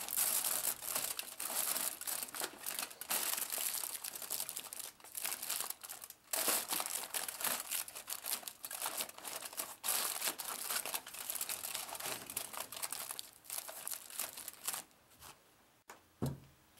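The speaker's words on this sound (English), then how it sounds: "the foil is crimped around the hose and held by the tape" Aluminium foil is crimped by hand around a fog machine hose, with continuous close crinkling and crackling and a few brief pauses, ending in a short quieter rustle.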